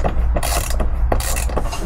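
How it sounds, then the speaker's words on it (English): Power drill backing out a seat bolt in a former ambulance van under campervan conversion, giving short bursts of whirring and ratcheting clicks up close, with no voices. "You just got to hold the bolt while I undrill it"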